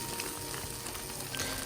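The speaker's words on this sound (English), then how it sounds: "frying 2 eggs" Two eggs fry in a pan of oil, giving a steady, dense sizzle and crackle that fills the whole moment at low to moderate level with no talking.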